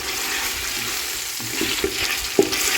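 Chicken pieces, earlier boiled in yakhni stock, are stirred and lightly fried in spiced masala over medium-high flame for pulao, giving a steady hiss with scraping spoon strokes and occasional louder clinks.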